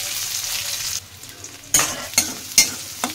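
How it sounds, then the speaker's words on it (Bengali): Small chopped onion pieces frying in oil, a low sizzle followed by several sharp scraping stirs in quick succession near the microphone. "এবার পিঁয়াজ কু অল্প ভাজি দেবা।"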